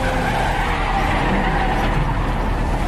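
A car skids into a police car in a film scene, a loud sustained tire screech over a roaring engine, unbroken and close, with no distinct crash impact.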